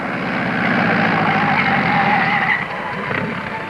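A 1940s motorcycle approaches and pulls up nearby, its engine a loud steady rumble that holds, then drops off and sputters briefly near the end as it halts.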